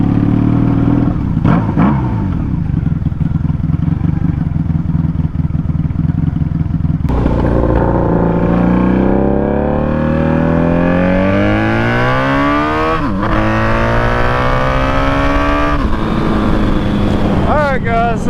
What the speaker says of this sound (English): The only reason those noise coming out of the exhaust is because I was in gear and I was decelerating.